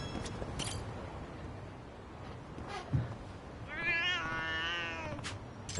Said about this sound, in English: Hey, cat.